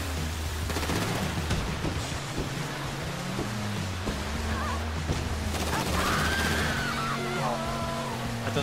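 Gunfire rattles in GTA V Online, rapid shots and bursts layered over a loud, busy game mix with a tonal musical score running underneath.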